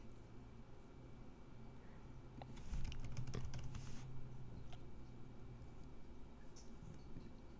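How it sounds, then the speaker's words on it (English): Quiet clicking of typing on a MacBook keyboard, a brief burst of soft key taps in the middle against a low steady room hum. "I'm not used to typing on my MacBook keyboard anymore."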